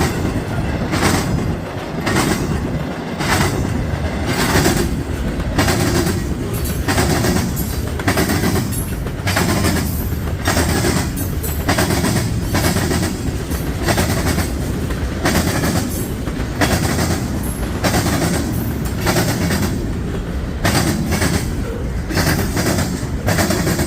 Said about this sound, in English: That's a crazy mixed freight one.